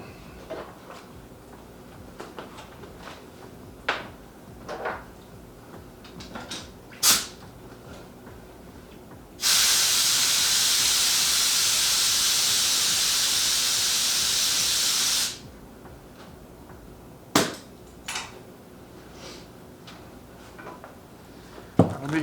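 Air-powered texturing tool working a pecan wood bowl at about 90 psi gives a loud, steady hiss for several seconds, framed by scattered clicks and knocks of handling before and after.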